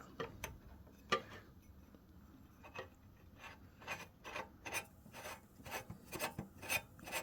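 A part of an Ariens 524RT snowblower, coated with copper grease, being gently screwed on by hand: a series of close, quiet rasping ticks and rubs that repeat irregularly, growing denser toward the end, with no voices.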